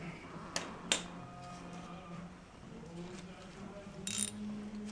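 Ratchet wrench clicks while tightening engine guard bolts on a Royal Enfield Continental GT 650, a few close, sharp ratcheting bursts separated by quiet pauses in a workshop.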